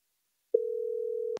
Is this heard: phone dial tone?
yes